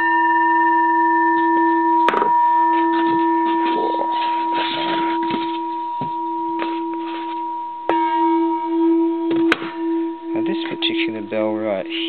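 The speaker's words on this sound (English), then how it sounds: "Bell right here." A mid-1800s Japanese bronze Buddhist temple bell, rung near a small Shinto shrine, sounds in sustained, steady tones, struck once more around two seconds and again later, with handling noises and a brief burst of speech near the end.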